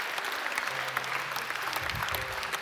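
A church congregation applauds together after a call to clap, a dense, steady patter of many hands filling the room at moderate loudness.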